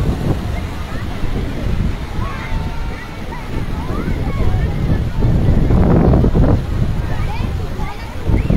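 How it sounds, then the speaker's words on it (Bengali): Storm-surge waves crash at Digha beach in a cyclone-driven swell, a loud continuous roar of surf under heavy wind buffeting the microphone while someone talks excitedly over it. "আবারও ভয়ানক ঢেউ আসছে।"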